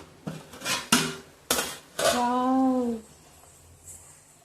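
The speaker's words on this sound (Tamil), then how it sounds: "இப்போ பதினஞ்சு நிமிஷம் ஆயிடுச்சு குழம்பு ஓப்பன் பண்ணலாம்" A metal lid lifted off a pot of stingray fish curry: several sharp clanks close by, then a sustained ringing metallic tone for about a second before it fades to quiet.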